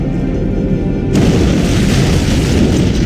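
A heavy antimatter charge detonates aboard a spaceship in Halo: Combat Evolved, a loud sustained boom that swells about a second in and keeps roaring, with no voices.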